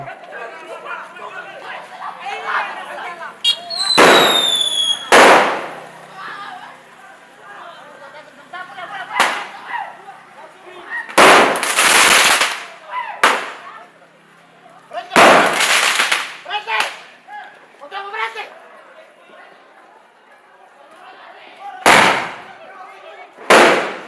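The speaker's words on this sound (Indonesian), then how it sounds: "Perang petasan ini tiap tahun dilakukan para pemuda dalam rangka menyambut pergantian" Sharp firecracker bangs go off irregularly, some in quick clusters and one with a whistling streak, over a crowd chattering throughout, during a street firecracker war marking New Year in Indonesia.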